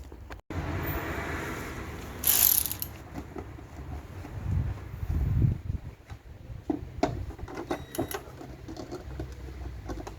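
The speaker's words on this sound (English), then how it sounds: "hold it with that 10mm spanner while ratcheting it up on the other side, and it should tighten." Ratchet tightening a bolt on a Rover 45 rear bumper, with scattered clicks and mechanical rattles amid faint handling noises and a brief sharp clank, close and fairly quiet.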